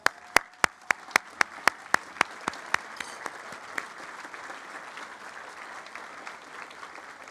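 Audience applause at a Founders Day banquet, opening with a run of sharp, evenly spaced single claps before settling into a steady wash of many hands clapping that slowly fades.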